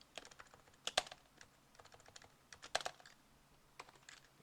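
Computer keyboard keys tapped close up while a member class is written in Java, a shortcut entered among a quick run of light clicks with a few louder presses, no talking.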